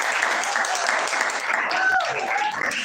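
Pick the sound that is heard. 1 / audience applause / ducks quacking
audience applause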